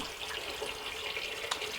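Water pours steadily into a turtle tank as it fills, a soft, even splashing and trickling flow heard quietly and continuously without talk.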